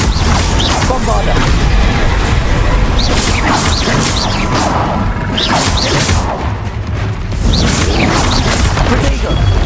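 Bombarda blasting spell from Hogwarts Legacy going off amid dense combat: repeated loud booming blasts and whooshing bursts crowd the whole stretch, with a voice calling out over the din.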